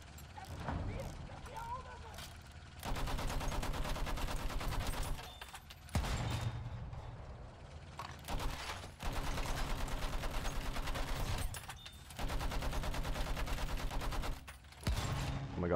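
Rapid bursts of heavy automatic cannon fire in Battlefield 1, several long volleys separated by short pauses, with voices talking underneath.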